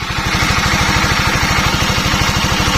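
A Honda CBR 150 motorcycle engine idles steadily, a loud, close, rapid even chugging pulse with a buzzing mechanical edge, running alone without voices.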